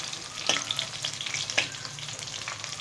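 Onion sizzles and fries in a pan as the base for a fish curry, a steady close crackling hiss with occasional louder spatters and stirring, no talk.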